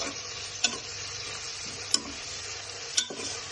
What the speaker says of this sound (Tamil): இது கொஞ்ச நேரம் நல்லா ஆயிலில் நல்லா ஃப்ரை ஆகட்டும்.